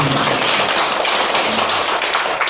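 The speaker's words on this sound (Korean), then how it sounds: "다시 한번 박수를 부탁드리겠습니다" An audience at a Korean forum gives a sustained round of applause, a thick, even wash of many hands clapping that fills the space from start to finish.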